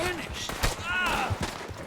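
Several sharp gunshots in Red Dead Online crack in quick succession, mixed with whooshing, sweeping synthetic effects.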